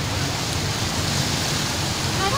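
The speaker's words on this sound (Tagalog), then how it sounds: "Oh, it's raining." Steady rain pouring down outdoors during flooding in front of a school, a dense, even hiss of falling water lasting throughout, fairly loud and close, with no clear voices over it.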